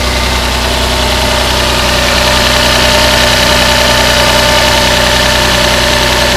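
Land Rover Freelander 3.2 24v petrol engine idling steadily after a spark plug change, a loud continuous close-up hum with slightly elevated warm-up revs and no voices.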